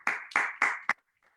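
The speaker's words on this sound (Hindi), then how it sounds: "एक तालियां बजा दें इनके लिए।" Four quick, sharp hand claps sound close in a room, evenly spaced and then stopping, as brief applause for a winner.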